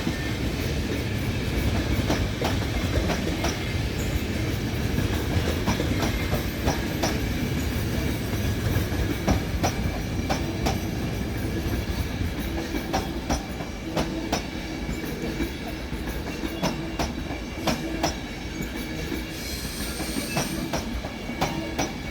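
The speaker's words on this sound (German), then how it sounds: "Einfahrt eines 420 an der Hacherbrücke." A class 420 S-Bahn train pulls into Hackerbrücke station in Munich with loud, continuous rumbling and repeated clickety-clack of wheels over rail joints, a brief squeal of wheels and a hiss near the end.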